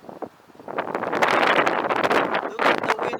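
Strong gusty wind buffets the microphone during a test flight of a DJI Mini SE drone, rising from a lighter rumble into sustained loud blustering with rustling bursts, no talk.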